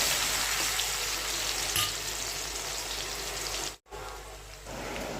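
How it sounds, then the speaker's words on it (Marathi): Finely chopped onion sautéing in a pan with green chilies for a chapati churma, a quiet steady sizzle that briefly cuts out, then resumes more faintly. "कांदा सुद्धा छान परतून घ्यायचा आहे"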